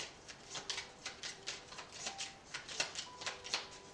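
Tarot cards being shuffled by hand to make a card drop out, a quiet run of soft, rapid riffling flutters that repeat in short bursts about every half second, with no talking.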